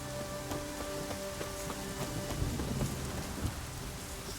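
Heavy rain pours in The Witcher 3: Wild Hunt, a steady dense hiss of downpour with low rumbling swells, under sustained tonal notes and with no one talking.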